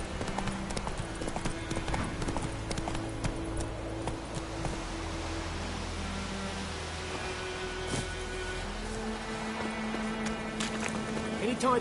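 The horse Roach trots in The Witcher 3, a rhythmic clip-clop of hooves running steadily under game music, with a voice speaking over it.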